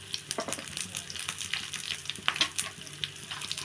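Dry red chillies frying in hot oil in a pan, a steady crackling sizzle with sharp pops and stirring scrapes, close and continuous with no voices.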